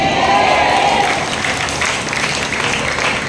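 Steady congregational applause at a healing service in Calamba City, a dense wash of clapping from a large crowd at even loudness, with a faint tonal hum under it early on.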